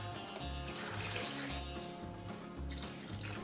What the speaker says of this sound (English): And now we're just gonna pour our ingredients into our blender.